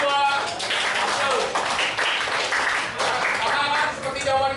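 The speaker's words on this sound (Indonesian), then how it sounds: "Tepuk tangan dulu untuk kelompok 2" A classroom of students gives a round of applause for a student group, dense clapping that rises and falls in waves with voices talking over it.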